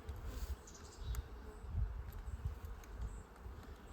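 A faint, close buzzing of honey bees working around an open backyard hive frame, a soft continuous hum with a few louder passes from individual bees near the microphone.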